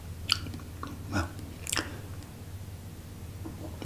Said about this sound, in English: And they definitely had quite a crunch to it.